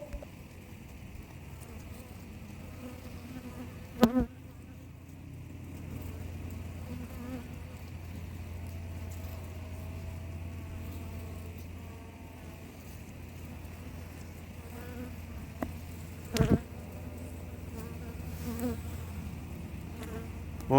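Honey bees buzz around an open hive being split outdoors, a low steady drone that holds throughout with a couple of brief knocks and no talk.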